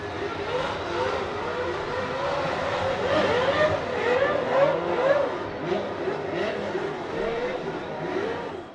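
1971 Formula 1 race cars returning from final practice at a Grand Prix, several engines droning and revving with rising and falling pitch, blending into a continuous moderately loud roar as they pass.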